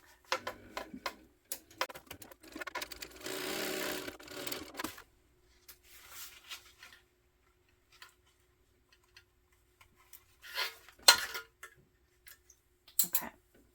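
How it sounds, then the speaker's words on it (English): A sewing machine top stitches a hip bag, running in short quiet bursts of rapid ticking with pauses between, the longest run lasting about two seconds, followed by faint scattered handling noises. "I'm doing that first one, and I'm going to top stitch."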